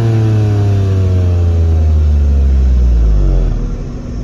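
A 2024 Hyundai i20 N Line with a 1.0L turbo engine, 7-speed DCT and dual-tip exhaust revs loudly and close. The engine note climbs steadily in pitch, then eases off at the end.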